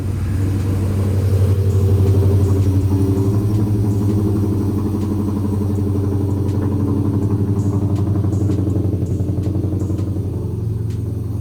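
A Dodge Charger R/T engine cold-starting on a hot morning, a steady low rumbling idle held near and loud for the whole stretch, with faint clatter above and no talking.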